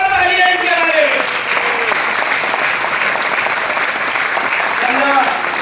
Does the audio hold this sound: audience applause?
yes